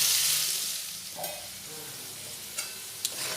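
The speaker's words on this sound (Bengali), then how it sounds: "খুব ভালোভাবে লাল করে আলুগুলো ভেজে নেব" Potatoes fry in hot oil with a steady, close hiss that starts loud and eases slightly, with a few soft clicks of a stirring utensil.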